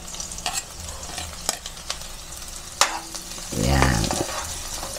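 Onion and garlic sizzle in a hot pan during sautéing, with scattered stirring scrapes before a loud burst of frying hiss as the garlic hits the oil, close and continuous.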